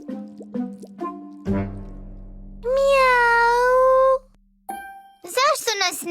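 A cat meows in a cartoon scene, a drawn-out rising and falling mew that stands out clearly, surrounded by short plopping sounds and a brief voiced exclamation before and after.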